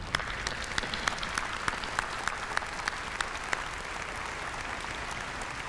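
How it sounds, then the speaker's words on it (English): Audience applause for school board members standing at a community event, steady moderate clapping with a few sharper individual claps, fairly distant and without talk over it. "giving them a well-deserved round of applause"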